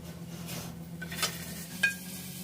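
Margarine melting in a heated frying pan, giving a faint, steady sizzle broken by a couple of sharp metallic clinks from a utensil against the pan, with no speech.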